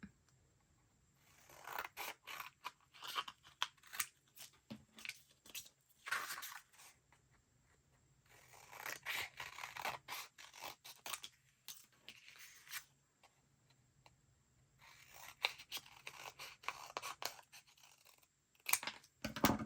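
Scissors cut out a paper file-folder house shape in three bursts of rapid, close snipping and crisp paper rustle, with quiet pauses between them.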